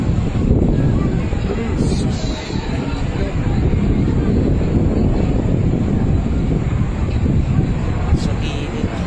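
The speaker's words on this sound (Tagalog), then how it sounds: "Lakas kasi ng hangin." Strong wind roars steadily across the microphone in a dense, continuous rush during a fire in a Parañaque City neighborhood, with people talking faintly beneath it.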